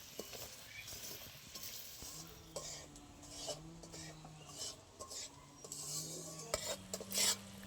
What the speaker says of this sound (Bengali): আস্তে আস্তে একটু নেড়ে নেবো এইবার